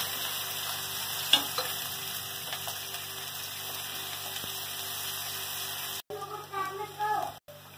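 Onions fry in a pan for khichdi, a steady, soft sizzle with a faint background hum and a few quiet clinks, then stirring noises near the end.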